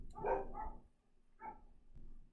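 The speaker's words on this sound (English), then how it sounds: "Sounds like my dogs are upset about it." Dogs bark in a short indoor burst, two or three sharp yelps close by with a brief gap between them and no talking.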